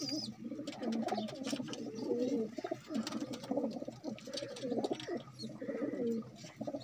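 Slender-feathered pigeons coo in a continuous overlapping chorus of soft, throaty rolling calls, close and fairly loud, with no talk.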